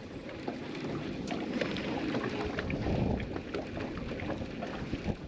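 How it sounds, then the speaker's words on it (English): Steady spring wind in Virginia, a broad continuous rush buffeting the microphone for the whole stretch with small gusty swells, near and fairly loud, no voices. "Once the weather starts to change a little bit, it gets extremely windy."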